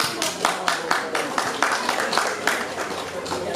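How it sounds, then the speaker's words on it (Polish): Applause from the crowd at a Polish harvest festival, a steady patter of clapping filling the whole stretch at moderate loudness with a faint voice underneath. "Dziękujemy Gałęzowowi. Wielkie brawa."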